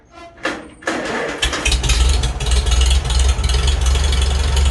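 A Farmall tractor engine, started without choke, cranks briefly with a couple of starter bursts before catching, then settles into a loud, close, steady low running idle.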